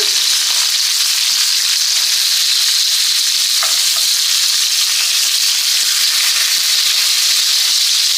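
Chicken cutlets fry loudly in a hot pan, a steady dense sizzle and crackle that runs throughout, with a couple of faint scraping knocks as the pieces are turned.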